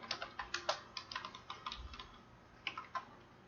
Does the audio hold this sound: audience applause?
no